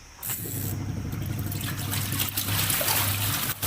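Steady, fairly loud rush of water running as clothes taken from a washing machine are washed, a continuous churning flow with a brief dip near the end.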